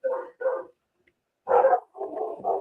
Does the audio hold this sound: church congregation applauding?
no